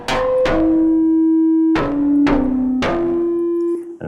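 Several bright FM synthesizer notes from Bitwig's FM-4 strike in turn, each with a sharp attack and a long, sustained reverberant tail ringing into the next.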